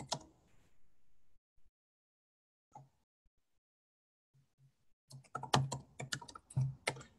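Computer keyboard typing: a short burst of clicks, a long quiet pause with a few isolated taps, then a quicker run of close, crisp keystrokes toward the end.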